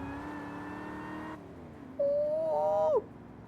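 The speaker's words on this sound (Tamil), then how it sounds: "அந்த இன்ஜின் சவுண்டு சவுண்டு கேளுங்களேன்" A 1970 GMC Jimmy engine hums, cuts off, then revs up sharply into a loud rising whine that holds for about a second before dropping away.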